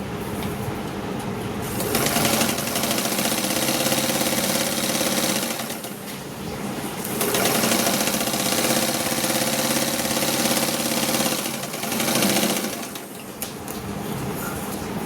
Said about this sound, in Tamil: நான் தைக்கும்போது எனக்கு மிஷினே வந்து ரொம்ப சவுண்டு அதிகமாக இருக்கும்.